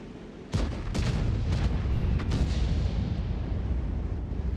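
A World of Tanks tank cannon fires once with a heavy, close boom, followed by a few sharper reports and a long rumbling tail, with no talk over it.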